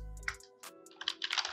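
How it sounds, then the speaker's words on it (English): A computer keyboard key pressed while naming nodes in a control rig for a car in Unreal Engine 5, heard as a few quiet, sharp clicks and taps, some in quick succession near the end. "hitting C on the keyboards"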